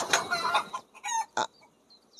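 Chickens cluck close by in a rural farmyard, a run of busy overlapping clucks followed by a few sharper isolated calls and a brief crowing note at the end.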